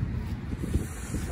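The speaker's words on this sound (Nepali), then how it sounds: "हावा पनि उपर चलिरहेछ कपाल सपाल उडाएर" Wind blows outdoors near the Washington Monument, a low rumbling buffet against the microphone that gusts unevenly throughout.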